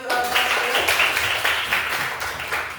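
Classroom applause during an economics lesson on human needs, a steady wash of many hands clapping together at moderate loudness, sustained for a few seconds without talk.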